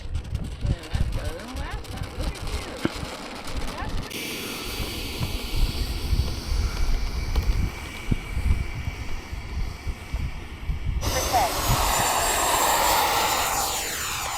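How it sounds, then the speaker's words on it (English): A radio-controlled model airplane flies and banks at an airfield. Its engine drone rises and falls as the aircraft turns, moving between near and farther passes, while people talk nearby. "I got you turning, Johnny. I got you banking."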